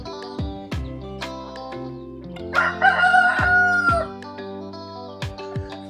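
Chickens clucking on a hay-baling farm. A rooster lets out a loud, close crow partway through, and sharp clucks and squawks break in around it.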